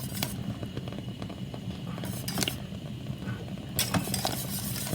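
A utensil stirs thick sauce in a pan, making repeated scraping clinks against the metal in bursts over a low steady background, close and fairly loud, with no one talking.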